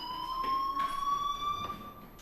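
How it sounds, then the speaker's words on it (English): Fire alarm in the video game Life is Strange, a steady high electronic tone that sounds continuously and fairly faintly throughout, with no talk. "Hey, do you hear that fire alarm?"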